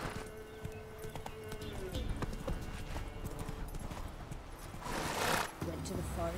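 Roach, the horse in The Witcher 3: Wild Hunt, gallops with a steady, rhythmic clatter of hooves close by, and a brief whinny and other game sounds are mixed in.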